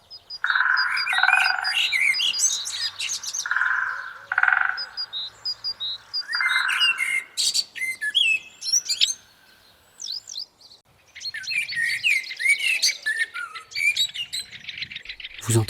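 Birdsong in an urban nature area in Roubaix: several birds chirp and trill in overlapping bursts at moderate distance, with steady croaking frog-like calls beneath, pausing briefly before the chorus resumes.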